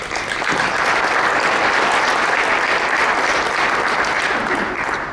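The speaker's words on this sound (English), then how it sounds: "give him in absentia a round of applause" A large crowd at a chamber of commerce legislative breakfast claps steadily and loudly throughout, a dense, continuous round of applause that doesn't fade.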